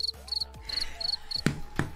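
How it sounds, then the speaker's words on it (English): A comedic cricket-chirp sound effect plays as a joke, repeating in short rhythmic bursts of high chirps over about two seconds, with a couple of sharper knocks near the end. "if I make a joke and you play that freaking cricket noise"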